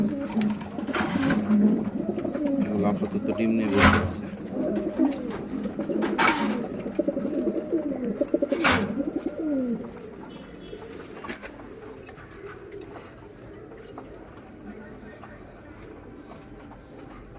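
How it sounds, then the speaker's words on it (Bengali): Pigeons in a house loft, including a newly paired couple, coo in steady overlapping rolls during extreme heat. A few sharp wing flaps and a nearby voice are mixed in. "আরো কিছু কবুতর আছে ঘরে, এগুলো নতুন জোড়া।"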